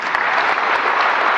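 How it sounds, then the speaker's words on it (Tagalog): Dense, steady applause from a large audience at a State of the Nation Address, a continuous crisp clapping wash lasting just over a second. "Pumalakpak ang mga buhaya."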